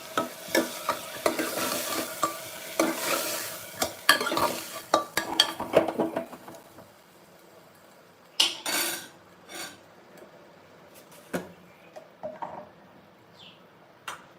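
A spoon stirs dudhi dal curry in a metal pan, with close rhythmic scraping and clinks over a light sizzle. It is busy at first, then turns to sparse knocks and pauses, with no voices.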